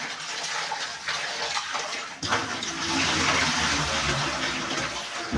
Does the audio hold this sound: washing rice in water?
yes